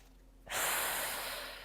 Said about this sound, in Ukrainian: зробіть глибокий вдох і видих